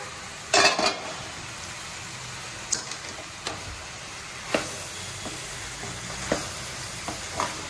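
Jackfruit curry is stirred in a pan after the lid is lifted, with a sharp clatter at the start and then scattered scraping and tapping over a soft, steady sizzle.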